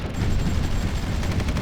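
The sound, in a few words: artillery fire in video game Supreme Ruler Ultimate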